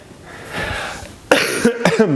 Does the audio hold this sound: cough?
yes